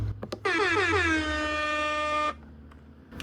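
A stock air horn sound effect from a streamer's soundboard blares once, loud and sustained for about two seconds with a falling pitch at the start, then cuts off abruptly.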